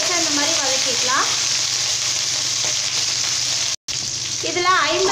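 Mustard seeds, urad dal, curry leaves and dried chillies crackling in hot oil for an onion tomato sambar, a loud, dense, continuous sizzle with stirring, briefly cut off near the end.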